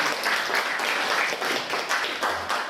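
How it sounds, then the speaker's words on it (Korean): Dense clapping from a conference audience welcoming a speaker, a brief burst of applause that stays loud and even for a few seconds. "큰 박수로 맞이해 주시고."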